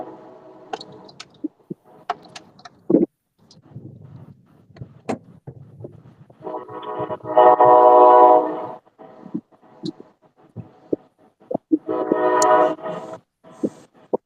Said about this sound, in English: That is a loud train.